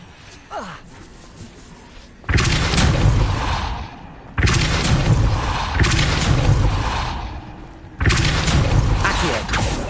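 A Depulso spell cast in the video game Hogwarts Legacy: three loud, broad blasts that each start abruptly and hold as a roaring rush for about two seconds, with quieter whooshes and effects before the first.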